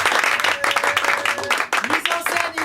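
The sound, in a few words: theatre audience applauding the show's authors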